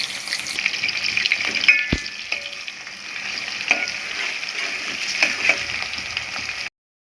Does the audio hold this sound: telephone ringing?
no